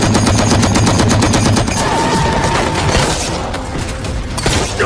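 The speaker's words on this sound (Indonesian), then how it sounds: "Akibat tembakan dari Andy, perang sengit pun tak dapat lagi dihindari" Loud, dense gunfire in a film battle scene: rapid machine-gun bursts and overlapping shots blending into a sustained roar, with booms underneath.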